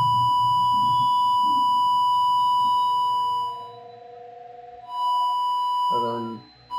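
Electronic alarm tone from a micro:safe class project: a steady pure beep held for several seconds, briefly dipping in level, then resuming with a short burst of noise near the end.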